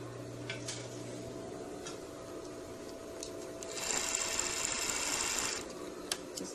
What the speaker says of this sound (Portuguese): Aí vamos lá no overlock.